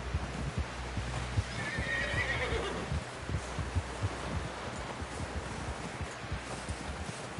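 A horse whinnies in Red Dead Redemption 2, a high drawn-out neigh early on over steady hoof clip-clops and rustling, the trotting continuing at close range throughout.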